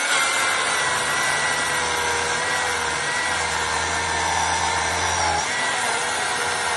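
A Milwaukee battery chainsaw with a worn chain cuts wood at a log dump camp, giving a steady, loud electric whine and rasping cut throughout, with the motor tone dropping briefly near the end.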